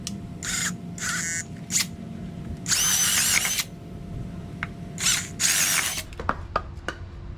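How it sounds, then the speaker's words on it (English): A power drill fitted with a drill bit bores into the corners of a DIY marble skate ledge, sounding in several loud whining bursts of varying length, separated by pauses filled with clicks and handling noise. "I'm going to take a drill bit and drill these corners first."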